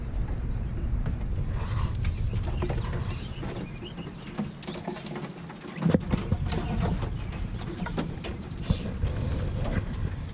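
Soft cooing and chirping from quail kept in an urban backyard coop, continuous over a dense, steady rumble of outdoor background noise, with scattered clicks and shuffling from the birds moving.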